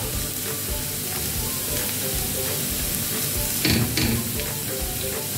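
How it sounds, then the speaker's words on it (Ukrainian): Grated carrots and chopped onions fry in hot oil in a pan, a steady close crackling sizzle with scattered pops and a brief louder burst of stirring partway through. "І ось так нехай воно у нас смажиться."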